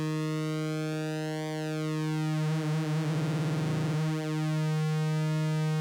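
Roland Zenology Pro software synth holding a bright, buzzy sustained tone with rich harmonics, its pitch content slowly sweeping under a slowed LFO, swelling to a warbling dip midway before settling back.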